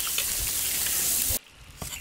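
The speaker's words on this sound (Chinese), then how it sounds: "徽州臭豆腐用菜籽油煎" Huizhou stinky tofu frying in rapeseed oil gives a steady, close hiss of sizzling with light crackles for over a second, then cuts off abruptly, leaving quieter faint pops and ticks.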